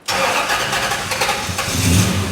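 A car engine cranks and catches, then runs loud and uneven with a rough, lumpy idle close by.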